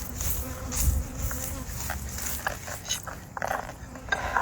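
Honey bees buzz steadily around an open hive during an inspection, a close continuous drone with brief louder passes, while people talk nearby and a dog is heard.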